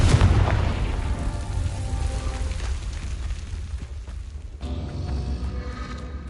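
Confringo spell blast in Hogwarts Legacy, a heavy booming explosion at the start that rumbles and decays over several seconds, followed by a fainter second surge of rumble.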